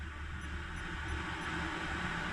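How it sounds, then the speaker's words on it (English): Static hiss played through the speakers of an SN95 Mustang GT with a newly installed Pioneer stereo, a steady, broadband noise that stays level and unbroken inside the car. "Let's just do some static."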